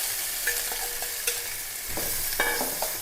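Onion and tomato fry in hot oil in a pan for chicken curry, with a steady close sizzle broken by a few sharp scrapes and clinks of a spoon stirring.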